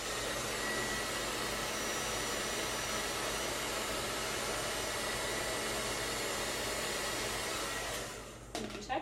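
A handheld hair blow dryer drying hair gives a steady, unbroken airy whoosh for several seconds, then stops, followed by a few light handling clicks.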